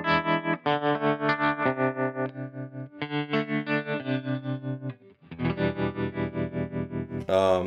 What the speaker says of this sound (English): I've got a tremolo